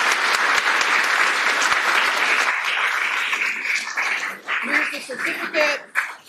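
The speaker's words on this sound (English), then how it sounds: "let's give a big round of applause for Connor Lester" Strong, sustained applause fills a commencement ceremony hall for a doctoral graduate, loud and dense at first, then thinning out as a voice and a whimpering dog emerge near the end.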